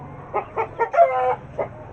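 Hens in a coop during rain cluck and squabble in a quick series of short, agitated calls followed by one drawn-out squawk. The calls are close and moderately loud over a quiet background.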